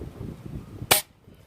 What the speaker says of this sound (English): And then the third shot quickly using the JSB exact normals.